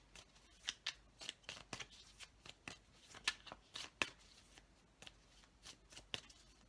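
A deck of tarot cards is shuffled by hand, giving quick, soft, papery riffles and flicks in an irregular burst rhythm, close up and fairly quiet, with no talking.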